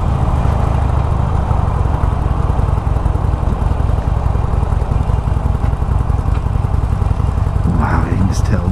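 A Harley-Davidson Roadster 1200 motorcycle engine rumbles steadily while riding, a low throbbing drone with wind noise throughout.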